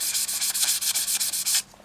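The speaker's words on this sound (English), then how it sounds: "let's just finish that sanding now" Sandpaper rubs against a pen blank spinning on a lathe in steady, rhythmic rasping passes, loud and close, then stops abruptly near the end, leaving a faint hum.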